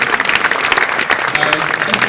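Audience applause at a tennis club prize-giving, dense and steady throughout, with some voices mixed into the clapping.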